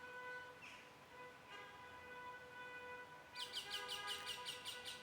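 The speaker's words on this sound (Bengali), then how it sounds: "পাখির শব্দ।" Faint chirping from a baby bird: quiet at first, then a quick run of rapid repeated chirps toward the end, all over a steady low background hum.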